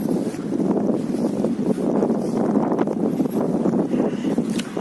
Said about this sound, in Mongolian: Одоо жоохон салхитай байна.